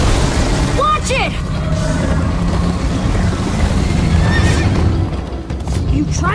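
A horse whinnies sharply in the video game Minecraft: Story Mode amid loud rumbling action noise and hoofbeats, with voices talking over the commotion.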